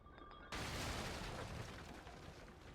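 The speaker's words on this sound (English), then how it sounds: "Explosion." A loud explosion from the Lies of P video game erupts suddenly after a brief quiet, then a broad roaring blast and rumble holds and slowly fades over the next couple of seconds.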